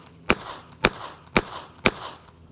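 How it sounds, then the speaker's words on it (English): A Heritage Roscoe revolver fires Federal 148 grain wadcutters: four sharp, loud shots spaced about half a second apart in an even rhythm, each followed by a short decaying echo, with no talking. "So we're just going to come up here and shoot."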